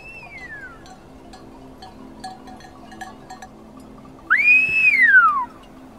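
Loud, clear whistled phrases of Silbo Gomero, the whistled language of La Gomera shepherds in the Canary Islands: a faint sliding whistle at the start, then a strong rising-and-falling whistle near the end, set against steady outdoor background noise.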